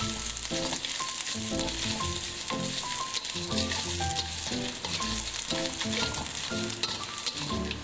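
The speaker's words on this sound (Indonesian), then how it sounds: "di dalam minyak yang sudah panas, kita tumis bawang merah, bawang putih, dan juga cabenya" Shallots, garlic, chili and shrimp paste sizzle steadily in hot oil as they are sautéed, a close, continuous frying crackle with periodic stirring scrapes throughout.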